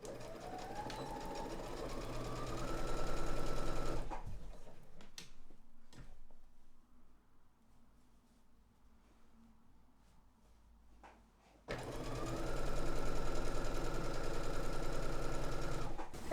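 A sewing machine stitches binding onto a quilt in two close, steady whirring runs with a quiet pause between them, and faint handling noises fill the gap.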